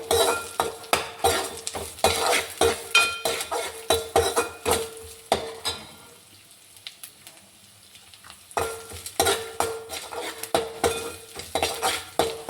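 Prawns fry in oil with salt and chili powder for a broad bean and prawn curry, crackling and sizzling steadily while a metal spoon stirs and clinks against the pan. The clinking stops for a few seconds, then resumes. No one speaks.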